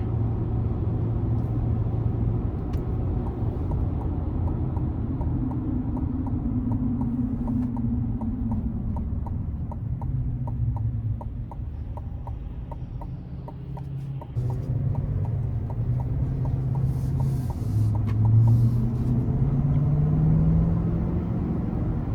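A 2023 Chevrolet Silverado 1500 ZR2 with a 6.2-litre V8 and 10-speed automatic rumbles steadily as it accelerates from inside the cab, its engine note rising and dropping through smooth gear changes with no talking.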